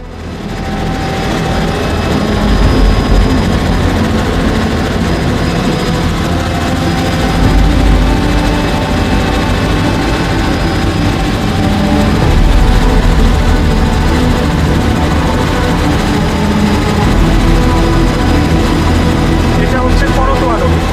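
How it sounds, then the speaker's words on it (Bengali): Cabin of a Robinson R66 helicopter in flight, a loud, steady engine and rotor drone with a deep low throb and faint whine, continuous throughout, with no clear speech over it. "আমরা এখন যেই হেলিকপ্টারটিতে ভ্রমণ করছি এটির মডেল হচ্ছে রবিনসন R66 মডেলের একটি হেলিকপ্টার"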